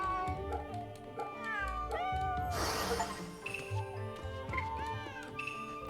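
Cat meowing in the video game Fate/Samurai Remnant, a string of short rising and falling meows repeated over several seconds, with a louder burst of ambient noise midway and game music beneath.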